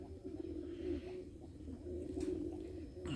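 A domestic blue pied pigeon cooing up close, a soft, low, continuous throaty warble that rises and falls over a few seconds, with no voices.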